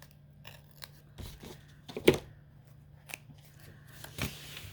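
Scissors snip through the paper pages of a children's book being altered into a junk journal, giving a few quiet, close, scattered cuts and paper rustles with pauses between them.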